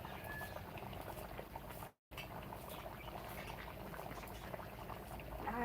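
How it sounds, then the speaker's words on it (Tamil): A pot of Kerala-style murrel fish curry bubbling at a steady boil over a fire, a continuous soft, busy gurgle that drops out for a split second before resuming. "குழம்பு அப்படியே கொதிக்குது."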